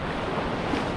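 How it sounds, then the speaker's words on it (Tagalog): Large ocean waves breaking on a shore, a dense, continuous roar of surf with wind buffeting the microphone, loud and close. "Grabe lalaki ng alon"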